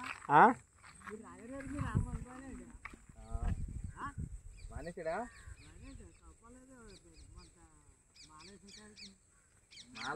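A hen clucks in a village in rural Andhra Pradesh, with short fowl calls mixed into steady, close conversation that runs through most of the stretch.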